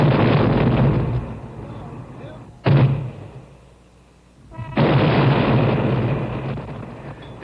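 Practice firing of the 16-inch main guns on the battleship New Jersey: two heavy, booming blasts with a long rumbling roar after each, separated by a quieter lull.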